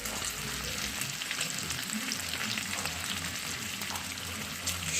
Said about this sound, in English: fry up about 2 slices in my cast iron skillet